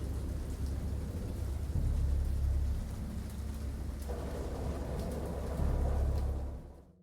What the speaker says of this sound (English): I heard peals of thunder and other tones which nature utters